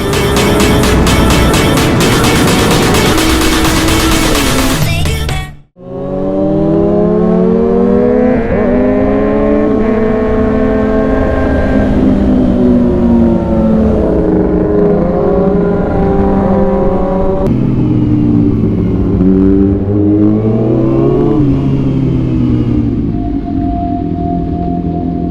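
A Kawasaki Ninja ZX6R fitted with an Arrow exhaust revs loud and close, its pitch sweeping up and down through repeated throttle blips after an abrupt cut partway through, with no talking.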